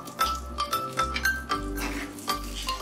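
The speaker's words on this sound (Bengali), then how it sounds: "ভালোভাবে নেড়ে দিচ্ছি যাতে সব জায়গায় নুনটা চলে যায়।" A spoon stirs salt into a simmering Bengali climbing perch fish curry in a pan, producing rhythmic clinks and scrapes against the metal, repeated every half second or so, close and clear.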